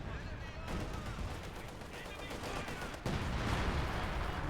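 Artillery bombardment in Company of Heroes 2 rumbles as dense, continuous battle noise with rapid shell impacts and gunfire, getting a step louder partway through, while a commentator's voice runs faintly underneath.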